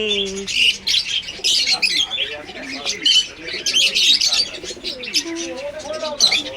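Pigeons cooing and birds chirping at a busy bird market with roosters kept below, repeated calls and squawks close by, with people talking around them.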